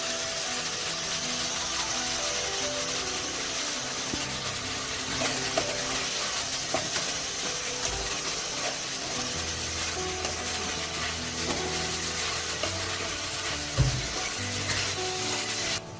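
Tomato and onion sautéing in a pan with curry leaves added give a steady sizzle and crackle alongside scraping and stirring, close and continuous, with no talking.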